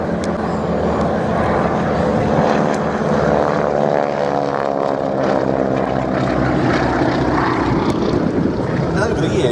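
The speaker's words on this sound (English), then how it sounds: "Whitney-engined Stearmans that are the mainstays of the team today" A radial Pratt & Whitney-engined Stearman biplane drones overhead at an airshow, a continuous propeller roar that holds steady at moderate distance while a voice talks over it.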